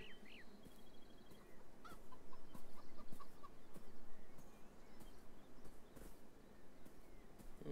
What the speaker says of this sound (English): More chicken.